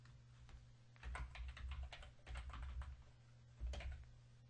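Keys clatter on a computer keyboard as a layer name is typed, in short bursts of quick clicks with brief pauses between, quiet and close.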